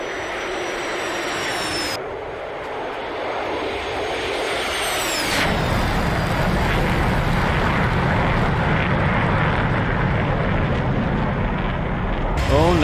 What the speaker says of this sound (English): We're at full stage afterburners